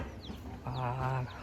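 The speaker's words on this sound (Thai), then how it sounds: "ตัวนี้จะเป็นขอไก่เขาเจ้าได้" Chickens in a rural village coop cluck, with a fuller drawn-out cluck in the middle standing over softer chirps and a constant outdoor background.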